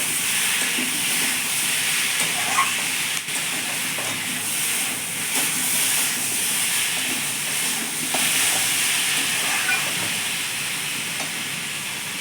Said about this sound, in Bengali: একটু কষিয়ে নিই নেড়ে তারপরে জল দিয়ে দেবো